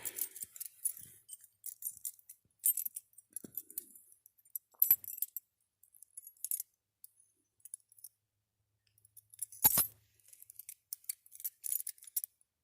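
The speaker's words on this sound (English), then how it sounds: "It's one of these rectangle keys." Metal car keys for a Jeep jangle and click in short bursts, close and fairly quiet, with brief silences between handling sounds and a louder clink near the middle.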